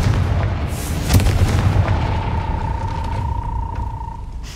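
Confringo blast spell cast at a gate in a Harry Potter video game, a loud booming burst followed by rumbling and a thin sustained ringing tone as the echo fades.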